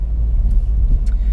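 A car rolls slowly into a car wash, its engine a steady low rumble close by with faint background noise throughout.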